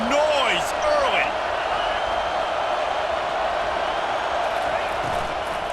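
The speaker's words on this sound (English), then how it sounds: "This crowd bringing the energy and noise early." A stadium crowd roars in the EA Sports College Football 25 video game, a dense, steady wash of distant crowd noise with a few brief whistle-like sweeps near the start.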